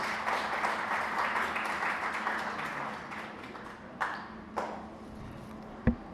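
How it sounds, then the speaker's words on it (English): Faint audience applause at a community center opening, a dense patter of clapping that fades out, followed by a few isolated claps and a sharp tap near the end. "Give her a round of applause, please."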